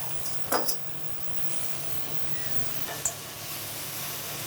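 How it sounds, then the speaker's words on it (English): Potatoes fry in oil in a pan with a steady, soft sizzling hiss, broken by a couple of brief, sharper crackles or utensil taps. "You can also fry these in some oil, get them a little crispy"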